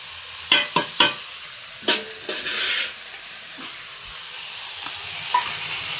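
Poppy seed paste is stirred and fried in a pan, giving a few sharp scraping strokes and a short burst of sizzle early on, then a quieter, fainter hiss with occasional light scrapes.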